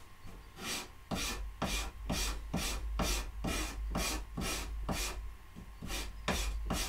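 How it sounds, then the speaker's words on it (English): A hand scraper works rough pallet wood where the grain reverses around a knot, giving about a dozen evenly spaced, rasping strokes, close and crisp, with no talk. "So this is going to require a lot of scraping."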